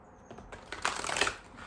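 Energy oracle cards being shuffled close up, a quiet, quick burst of riffling and flicking card sounds that swells briefly and fades.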